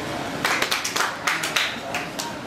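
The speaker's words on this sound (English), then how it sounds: "If you agree, clap one time" At a DC Council town hall meeting, the audience answers with a short scattered burst of clapping, several separate claps in quick succession rather than applause, moderately loud in a room.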